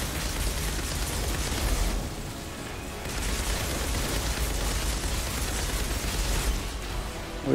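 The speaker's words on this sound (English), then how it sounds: "That's an explosion." Explosions and blasts in the looter-shooter Outriders Worldslayer, heavy dense roaring bursts filling the whole clip with a brief dip near two seconds, loud and continuous like sustained gunfire and detonations.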